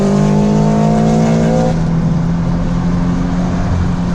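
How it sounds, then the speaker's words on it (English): Supercharged Toyota FRS and a modified Hyundai Genesis coupe with aftermarket exhaust racing side by side, loud engine roar with rising gear tones that drop at a shift, then a steady droning run. "Supercharged FRS versus a Genesis coupe."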